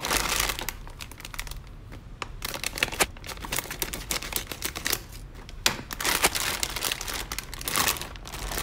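Crinkly plastic packet of Trolli gummy candy being opened and handled, a dense run of close crackling and rustling that continues throughout with brief pauses and no voices.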